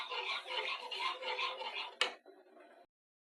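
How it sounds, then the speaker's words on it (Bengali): A utensil scrapes and clinks steadily against a pot of moong dal curry with yogurt while it is stirred, ending in a sharp knock on the rim before the sound cuts off. "যতক্ষণ না ফুটবে ততক্ষণ এটাকে আমি নাড়তে থাকবো।"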